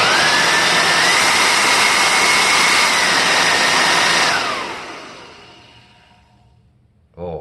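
A 1988 Kirby Heritage II vacuum cleaner's motor and fan run loud and steady with a rising whine, then spin down and fade to near silence.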